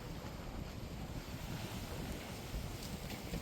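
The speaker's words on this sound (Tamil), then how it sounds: "சரியான காற்றுங்க" Strong wind from a sudden storm cyclone in a village buffets the microphone with a dense, steady roar. Low rumbling gusts continue without pause and no voices are heard.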